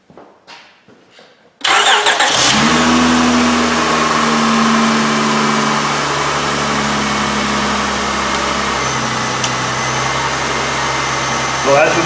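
A Honda 3.0/3.5 V6 with a newly replaced EGR valve cranks and starts after a quiet moment with a few faint sounds, then settles into a loud, steady idle that runs on evenly.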